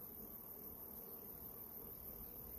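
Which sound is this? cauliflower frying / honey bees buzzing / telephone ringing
honey bees buzzing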